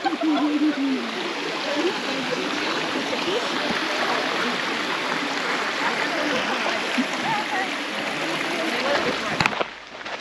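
Creek water at Venus Baths in the Grampians rushes and babbles over rocks in a steady, broad wash close by, continuing without pause for about ten seconds.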